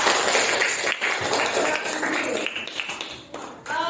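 A classroom of students claps for a group after its presentation, a sustained patter of hands that thins and breaks off near the end before a voice comes in.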